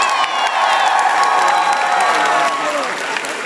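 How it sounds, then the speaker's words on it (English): Loud, close crowd of fans at a Sonic convention bursts into applause, cheers and whoops for guest Takashi Iizuka, a dense roar of clapping and shouting voices that eases slightly near the end. "so let's give him one more round of applause."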